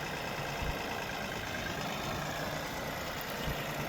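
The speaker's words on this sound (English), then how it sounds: "I'll insert a picture or a video of him transporting some of the blocks on his tractor here" A tractor engine idles steadily at a low, even rumble while it hauls blocks for a garden bed, a continuous nearby drone with no talk over it.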